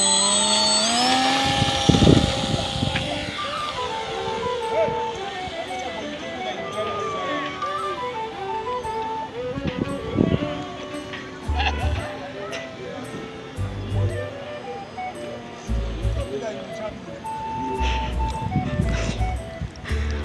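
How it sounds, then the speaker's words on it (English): An RC ultralight model airplane flies slowly at half throttle, its motor giving a droning whine that wavers in pitch as it passes, while people talk over it throughout. "Wow, it flies just like an ultralight, so slow."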